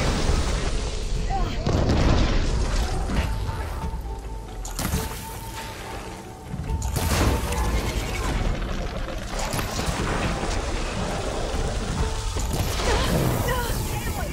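Cannon fire and explosions from a machine enemy in Horizon Forbidden West, heard as repeated heavy booms and bursts within dense, continuous game sound.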